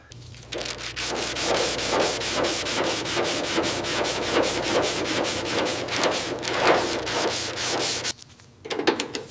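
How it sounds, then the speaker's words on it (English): A soft-bristle brush sweeps dust off the body of a rusted 1957 Porsche 356 A Speedster, making close, steady rhythmic swishing strokes for about eight seconds, a brief pause, then a few more strokes. "Gently brushing layers of dust from the surface, soft bristles move slowly along every curve."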